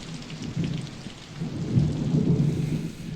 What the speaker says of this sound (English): I love the lightning effects. The lightning effects, the thunder effects.